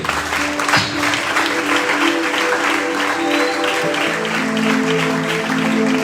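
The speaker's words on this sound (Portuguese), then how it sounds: "Aplauda para a glória de Deus" A worship congregation breaks into loud, sustained applause, blended with a held musical tone and crowd noise underneath.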